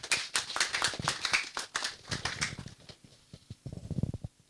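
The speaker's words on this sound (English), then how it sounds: "Another round of applause for Dr. Olora Charles, the Director General." Audience applause at a ventilator and pulse oximeter handover ceremony, a burst of scattered claps from a modest crowd that thins out and becomes sparse toward the end.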